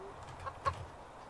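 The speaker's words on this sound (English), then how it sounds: "Chicken made noise." A chicken in the video game Evil Nun gives a single brief cluck, faint against a quiet background hum, with no talking.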